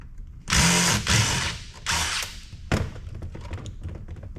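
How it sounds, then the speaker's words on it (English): A low-grade circuit board from a touch screen system being snapped and broken for scrap, several loud close cracking thunks in quick succession, then lighter rattling handling. "You have to break that board to get at this screw."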